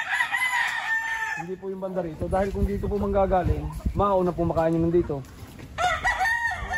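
Chickens at a rural riverside spot cluck and a rooster crows in drawn-out calls, fairly close, while someone talks over them in the foreground.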